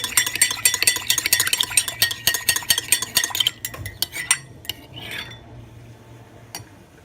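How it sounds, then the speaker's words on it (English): A metal spoon stirs honey into hot water, clinking rapidly and steadily against the container, then slowing to a few scattered taps and a soft scrape near the end. The sound is close and clear, with no talking. "Just stir the honey well."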